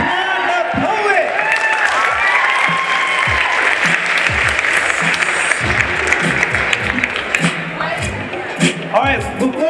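Sustained audience applause with scattered whoops fills a 9th-grade poetry slam room after a poet's scores are read, steady and loud, with people talking underneath.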